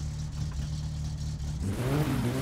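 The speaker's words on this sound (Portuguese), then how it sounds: "Tá funcionando o carro" A car engine in the video game My Summer Car runs loud and close with a steady mid-range drone, then revs up in pitch near the end.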